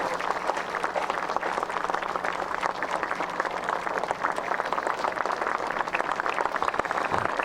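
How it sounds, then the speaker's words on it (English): Veterans leaving the parade grounds at a Remembrance Day parade draw a sustained round of applause from a large crowd, dense, even clapping that holds for several seconds at a moderate distance. "The veterans getting a well-deserved round of applause as they exit the parade"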